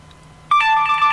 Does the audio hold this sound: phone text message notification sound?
yes